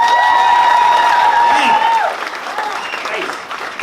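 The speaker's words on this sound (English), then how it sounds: "Round of applause." Loud audience applause at a stand-up comedy show with some cheering and a whistle, dying down after a couple of seconds.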